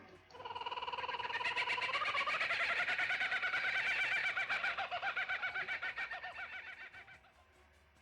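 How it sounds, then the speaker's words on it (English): A bird calls with a long, rapid, pulsing series of notes that rises, holds and then trails off, fairly faint and alone. "So definitely has to be a bird."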